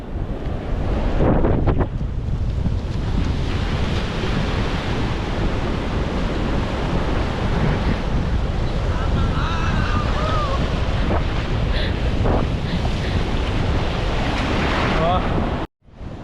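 Morning sea waves roll in steadily at Mae Ramphueng beach in Rayong, with continuous loud surf wash and heavy wind buffeting the microphone throughout.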